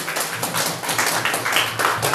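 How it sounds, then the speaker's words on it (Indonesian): A church congregation claps hands during a Sunday service, a close, loud burst of many hands in an uneven, slightly rhythmic patter that carries on throughout. "Supaya tidak ngantuk, tepuk tangan dulu."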